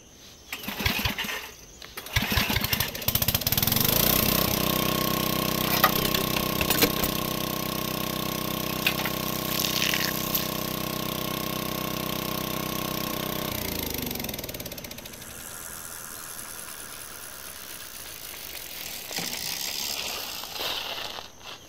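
A diesel pump runs with a steady, loud mechanical drone for about twelve seconds, then shuts off and leaves quieter outdoor ambience.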